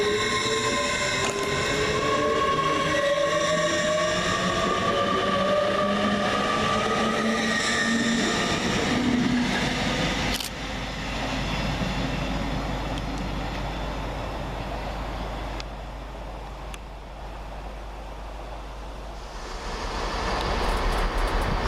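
Transpennine Express train 802219 departing Newton-le-Willows station: a steady rising electric drive whine and rumble that holds loudly throughout, with wheels and rail noise building as it pulls away.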